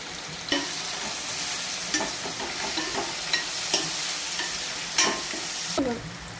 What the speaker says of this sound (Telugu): ఈ ఆనియన్స్ ఆయిల్లో మంచిగా ఫ్రై కావాలండి